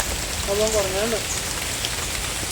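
Steady rain falls on surfaces outdoors in a hilly area, a constant dense hiss with a faint tonal whistle or call briefly rising above it.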